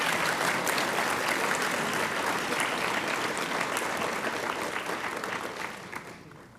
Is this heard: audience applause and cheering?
yes